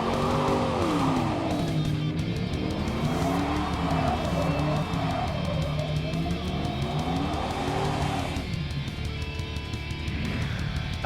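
Deep, steady V8 exhaust rumble from a Ram 1500 Express regular cab short bed truck with a 5.7L Hemi on Falcon tires, droning loud and close throughout with shifting engine tones as it drives.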